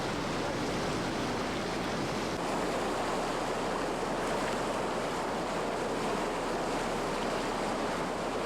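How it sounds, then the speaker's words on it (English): The Stein River rushes in one continuous cascade, a dense, steady roar of whitewater that fills the scene without a break, loud and close with no voices. "the river appears to be one continuous cascade"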